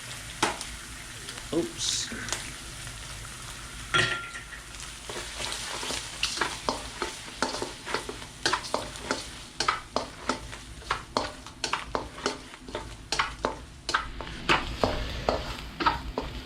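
Two eggs sizzle and fry in a pan for crab fried rice, a constant crackling hiss broken by frequent scraping and tapping of a utensil stirring, with a brief spoken exclamation partway through.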